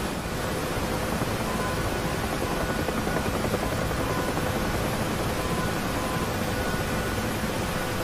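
Helicopter in a reenacted action scene, a loud continuous broadband rotor and engine roar holding steady throughout with no talk.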